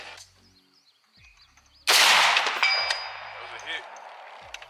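A 5.56 rifle fires at a long-range target during a shooting competition, giving one sharp, loud report followed by a decaying tail and faint ringing. Quiet background sounds come before the shot.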